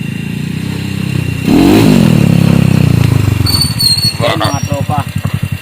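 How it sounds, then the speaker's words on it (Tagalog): An SRM 110 motorcycle with a 56mm bored-out engine and a worn cam revs up loudly, then settles into a fast, rhythmic ticking idle close by while someone speaks over it. "yan pansinin nyo medyo may konting lagatik, upod na yung cam"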